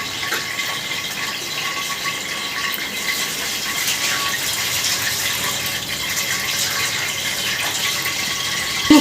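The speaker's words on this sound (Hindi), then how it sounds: "इसका पानी निकाल लेती हूँ" Water pours steadily from a cooking pot being drained, a continuous close gushing splash lasting the whole stretch at moderate level, with no talk over it.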